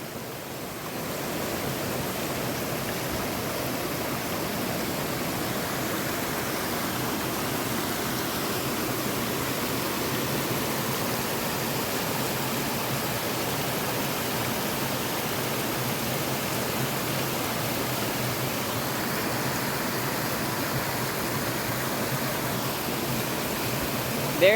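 Silver Creek Falls roars as a steady waterfall, a dense unbroken rush of falling water filling the scene at close range for the whole stretch, with no voices over it.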